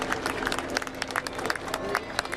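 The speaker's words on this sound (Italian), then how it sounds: "Parte l'applauso." Applause from a crowd of hundreds of faithful greeting the arrival of a saint's relic in Padua, a dense patter of many hands clapping steadily throughout, moderately loud and somewhat distant in an open setting.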